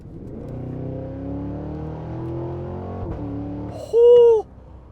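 Supercharged 2023 Cadillac Escalade-V passing at full throttle, a rising engine drone building and fading, followed by a short, loud whine near the end.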